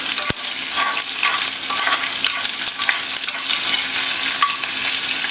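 Green chillies and chopped ginger frying in hot oil, a loud, continuous close sizzle with crackling pops and stirring, plus one sharp click near the start.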